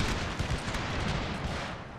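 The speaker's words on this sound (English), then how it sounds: "we've got the worst intersection of gunfire right about here." Dense, continuous musket and artillery gunfire crackles and booms across a battlefield in the strategy game Total War: Thirty Years War, loud and sustained with no talk over it.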